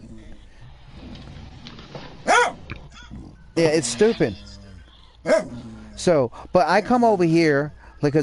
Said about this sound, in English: Excuse my dog. She wants up,